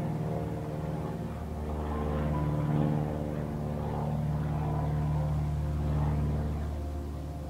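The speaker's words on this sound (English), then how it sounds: "Sorry for the plane." Low droning rumble of an airplane passing overhead, swelling gradually and holding steady before easing slightly, heard alone without speech.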